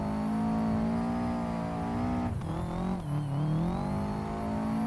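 Subaru fitted with a new loud exhaust in the Assetto Corsa driving game, engine held at high, droning revs, dipping and surging briefly midway as it drifts, with no talk over it.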